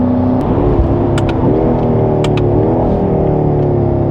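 A stock BMW M5 accelerates hard, its engine note loud and close, climbing in pitch and dropping briefly at each of several quick gear changes before surging again.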